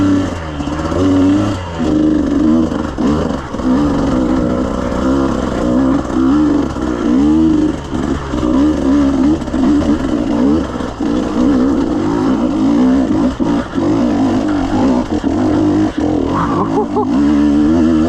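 A KTM 150 XC-W two-stroke dirt bike engine drones loud and close throughout a solo trail ride at Walker Valley, revving up and down with rough throttle changes, while the rider talks over it.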